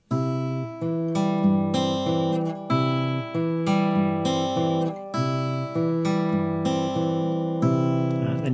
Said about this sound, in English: for added interest you could actually add in some different high notes